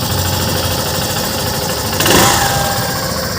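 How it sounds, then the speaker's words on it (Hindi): A Hero Super Splendor Xtec 2.0 motorcycle engine idles steadily and loudly close by, with a brief swell as the self-start kicks in partway before the idle settles again. "पता चला गाड़ी एकदम ऑटो स्टार्ट हो गई।"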